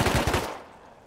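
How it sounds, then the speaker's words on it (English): Rapid automatic gunfire from the survival video game Rust, a tight burst of five or six shots lasting under half a second, loud and close, then fading out. "You just headshot me 9 times!"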